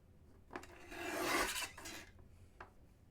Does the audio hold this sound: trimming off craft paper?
yes